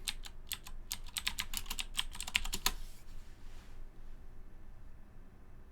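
Quick, crisp keystrokes on a computer keyboard rattle out in a burst for about three seconds while a command is typed, then stop, leaving faint room hiss.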